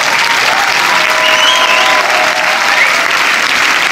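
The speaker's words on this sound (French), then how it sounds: "Vous allez avoir une grande partie de l'équipe du film à applaudir." A packed cinema audience at UGC Les Halles in Paris applauds director Safy Nebbou at a film premiere, with loud, dense, continuous clapping and faint cheers from the crowd.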